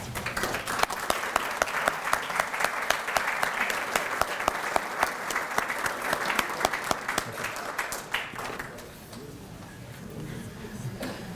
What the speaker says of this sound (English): if they would stand up, please, for a round of applause